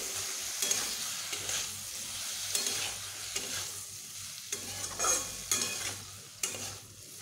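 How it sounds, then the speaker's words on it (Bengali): Freshly ground spice paste sautéed in a pan, quiet sizzling under repeated close scraping strokes of a spoon, roughly one every second, with no voices. "এবার আমি বেশ ভালোভাবে কষিয়ে নেব।"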